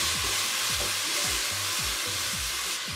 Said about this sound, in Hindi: अब स्लो आंच पे हम इसकी भुनाई करेंगे।